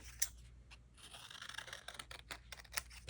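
Scissors cut paper pieces for a two-colour free-form collage, making faint, close snips and crisp paper rustles in a few quick bursts against a quiet room.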